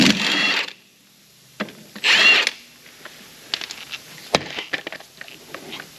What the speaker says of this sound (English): I can take that last lug nut out off